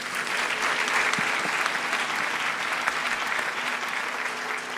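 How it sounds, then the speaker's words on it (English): Sustained, dense applause from an audience at a Bharatanatyam arangetram dance recital, steady and fairly loud throughout. "Let us give her a big round of applause."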